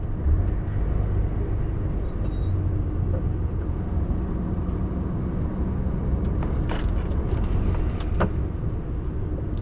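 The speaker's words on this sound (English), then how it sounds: "Lots of trucks going in and out." Steady engine drone and road rumble from trucks moving in and out of busy docks, heard continuously at moderate distance with no voices, a faint high whine early on and a few clanks near the end.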